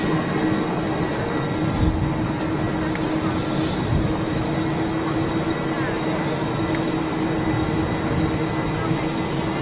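KLM Boeing 737 taxiing toward a gate at Schiphol airport: a continuous, dense jet engine roar with a steady whine, heard from a distance with a voice talking over it throughout.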